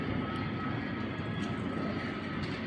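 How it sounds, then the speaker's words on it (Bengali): An airplane at an airport gives a steady, broad engine roar, continuous and moderately distant, with no speech over it. "এই বিমানটা আপনাদেরকে ফ্লাই দেখাবো।"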